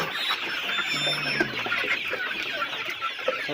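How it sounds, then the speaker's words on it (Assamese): Hungry chickens in a coop at a local Assam farmhouse keep up continuous overlapping clucks and squawks, close and busy throughout. "এতিয়া মই আপোনালোকক আমাৰ মুৰ্গীৰ ৰুমটো য'ত আমাৰ মুৰ্গী আছে চব একদম ভোকত তৰতৰাই আছে।"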